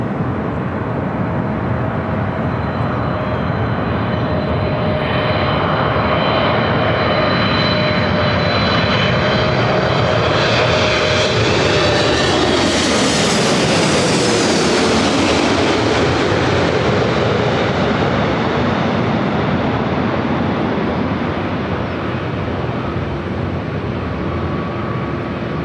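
United Airlines flight 198 roars past loud and close, a steady jet engine rumble that swells to a Doppler sweep at its peak around the midpoint and then fades slowly as the aircraft moves away.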